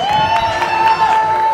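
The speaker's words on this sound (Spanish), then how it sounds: "Aplausos para Analía Castiblanco, Jaime Barak," An audience at a Spanish-language stage talent show at a discotheque cheers and claps, with a crowd roar and shouts plus a sustained tone from the sound system.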